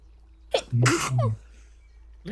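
One person in a quiet room gives a single sharp sneeze, a short breathy intake followed by a loud explosive burst, close to the microphone.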